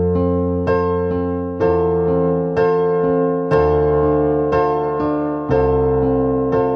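Piano plays the pre-chorus of a classic 70s song, with a left hand descending through octaves from F down to C under sustained chords, struck in steady, even beats, loud and close with no talking.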